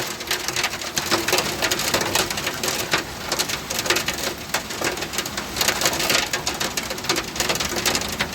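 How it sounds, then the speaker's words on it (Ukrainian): Hail falls in a dense, steady clatter of countless small impacts on surfaces during a storm, loud and close with a continuous crackling texture and no speech. "Розпочався град."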